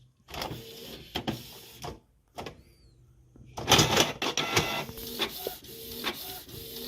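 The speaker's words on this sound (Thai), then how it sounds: "ตอนนี้เครื่องก็พิมพ์ออกมา ปกตินะครับ" A Canon Pixma G2010 inkjet printer runs a test page, its motor whirring and clunking in short mechanical bursts, then a louder steady feed-and-print passage, close and clear with no talking.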